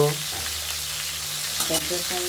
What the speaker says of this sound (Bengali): মাথাটা আমরা কড়াইতে দিয়ে দিয়েছি গরম তেলের মধ্যে